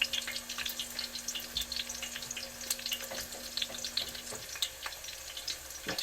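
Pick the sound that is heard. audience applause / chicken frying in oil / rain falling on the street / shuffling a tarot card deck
chicken frying in oil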